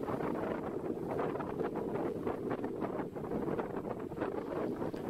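A fishing boat from Phu Quy island speeds out to sea, heard as a constant, heavy rush of wind buffeting the microphone with a low engine-and-water rumble underneath and no voices.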